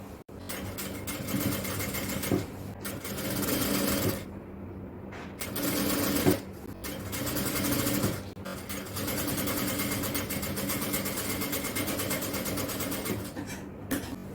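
Sewing machine stitching the center seam of an XL jalabiya, running in long continuous bursts with brief pauses between runs, loud and close with no talk.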